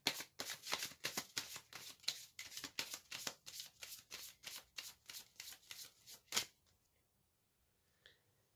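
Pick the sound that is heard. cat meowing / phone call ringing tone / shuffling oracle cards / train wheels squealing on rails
shuffling oracle cards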